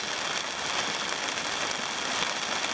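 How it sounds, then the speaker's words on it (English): Steady rain pours down on Thursday Island in the stormy Torres Strait, a dense, even hiss of drops drumming on surfaces close by with no voices. "Day 7 of rain."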